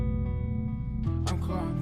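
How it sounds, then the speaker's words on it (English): A vocal run through heavy reverb in FL Studio, a sung or rapped line with a long washy tail smearing the words together, loud and continuous. "We actually added a lot of reverb for this."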